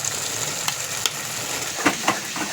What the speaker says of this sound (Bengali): মশলাটা একটু ভালো করে কষে নেবো যতক্ষণ না তেল ছেড়ে আসে।